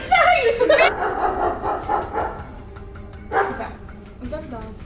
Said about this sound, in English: Guys, did you bring a dog?